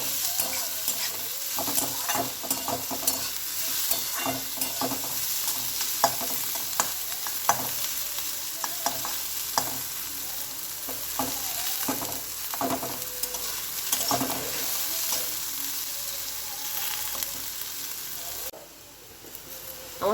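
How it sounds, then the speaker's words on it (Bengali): Mixed vegetables, with a pinch of sugar added, stir-fry for chira pulao, a continuous close sizzle broken by frequent scraping and clinking of a spatula against the pan, running steadily to the end. "আমার সবজিগুলো ভাজা ভাজা হয়ে গেছে"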